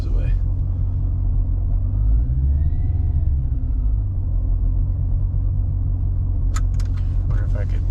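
A Mercedes CLK55 supercharged M113K engine idles with a low, steady rumble and a slight rock below 700 rpm, close by, with a brief rise in pitch midway and a light metallic jingle near the end.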